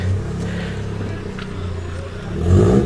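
A 1972 or 1973 classic Porsche Carrera engine idles and revs nearby with a throaty, burbling rumble that swells briefly near the end.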